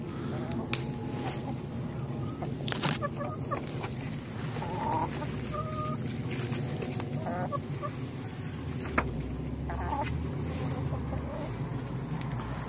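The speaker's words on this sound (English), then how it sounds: "And the chickens, as usual, you may hear them, they're following us everywhere." Chickens on a fruit-growing homestead cluck and squawk intermittently over steady outdoor background noise, with occasional honking calls and faint talking.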